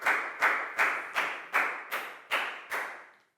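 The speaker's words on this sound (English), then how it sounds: "Big round of applause for Pat, please, guys." A class claps for a student in a children's English lesson, with eight evenly spaced loud claps that fade away at the end.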